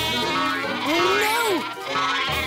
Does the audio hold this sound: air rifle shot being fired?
no